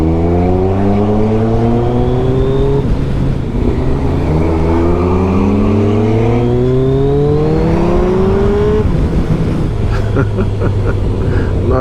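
Lotus sports car accelerating hard with a loud, close engine note that rises through several gears, each climb dropping and climbing again, then settling into a steady roar. No one speaks.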